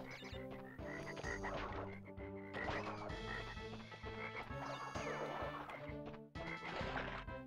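A toad croaks in Crash Bandicoot Warped on PS1, deep repeated croaks in a rhythmic series set against game music and thuds, fairly faint overall.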